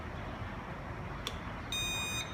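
A short beep from an EDA C1100M smart cabinet lock as a Mifare key card is swept, followed by a steady high electronic tone lasting about half a second, alone in a quiet room.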